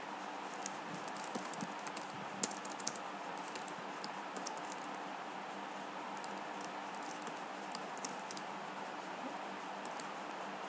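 Steady typing on a computer keyboard, a quiet continuous patter of key clicks with a few sharper taps, close and alone with no voices.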